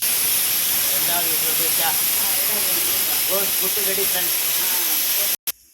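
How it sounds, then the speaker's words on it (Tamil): Steady loud hiss of a drumstick poriyal kuzhambu (curry) bubbling in a pot on the stove, with a voice talking over it throughout before it cuts off abruptly near the end. "குழம்பு கொதிக்குது"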